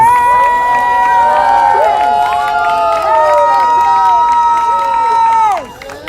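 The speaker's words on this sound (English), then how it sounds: "I just want to give them a round of applause" A large outdoor crowd at an anti-mandate freedom rally in New York City, loud sustained cheering, whooping and shouting with clapping mixed in, fading sharply near the end.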